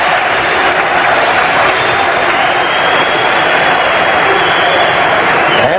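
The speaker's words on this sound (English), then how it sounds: "The crowd giving the United States a standing ovation as they go off the ice" A large arena crowd at an Olympic ice hockey game between Czechoslovakia and the United States gives a standing ovation, with dense, steady applause and crowd roar filling the whole stretch at high, constant loudness.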